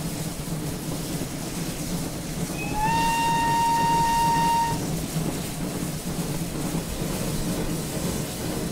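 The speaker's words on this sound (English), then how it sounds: "I do love steam trains so much, I really do." A steam locomotive whistle in Train Simulator 2017, on the West Somerset Railway route, sounds one sustained blast of about two seconds over steady rumbling train and rail noise.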